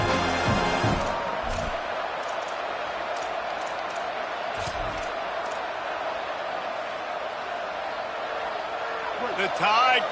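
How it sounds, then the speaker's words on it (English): Alabama Crimson Tide football crowd at Saban Field roaring on a third down during the Iron Bowl, a dense, sustained stadium roar that fills the whole stretch, with brief louder swells and faint voices underneath. "The Tide crowd roaring noise down onto Saban Field on 3rd down."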